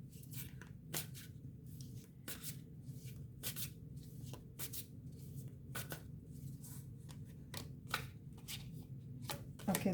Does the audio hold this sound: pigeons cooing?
no